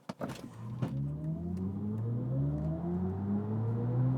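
A 2022 BMW i4 M50 electric car accelerates hard with a rising motor whine that climbs steadily in pitch, sustained and fairly close.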